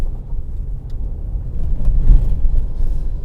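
A Toyota 4Runner SUV driving on a snowy road, heard as a steady low engine and road rumble from inside the cabin, with a slight swell partway through.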